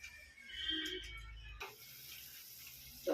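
Water pours into a cooking pot with soaked home parboiled rice, a soft steady splashing stream that stops abruptly midway, followed by quieter kitchen background and a brief knock at the end.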